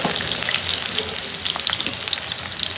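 Chopped onion fries in hot oil for an okra stir-fry, a dense, loud, continuous crackling sizzle like heavy rain, steady throughout with a few scattered pops and no voices.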